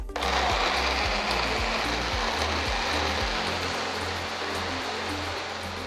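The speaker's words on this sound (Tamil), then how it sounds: "எல்லாத்தையும் சேர்த்து நல்லா அரைச்சிக்கணும்." A mixer grinder blends banana with chilled milk, giving a steady loud whirring drone with a pulsing low hum that runs unbroken throughout.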